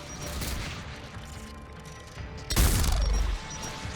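Video game gunfire from a gun in Mass Effect 3, a loud burst of rapid shots and a crashing impact breaking through busy in-game ambience and music, no talking heard.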